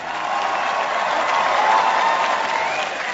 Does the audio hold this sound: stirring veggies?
no